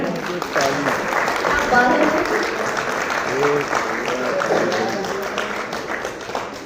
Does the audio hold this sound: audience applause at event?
yes